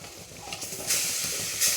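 Spinach paste hitting hot masala in a pan, a steady broadband hiss and sizzle that swells sharply as the paste goes in and surges again briefly near the end.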